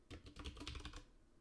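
Rapid clicking keystrokes on a computer keyboard, close and clear, in a quick irregular run that stops near the end.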